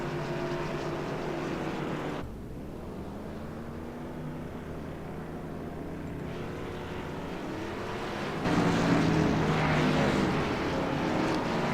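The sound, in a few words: race cars driving off pit road in a racing game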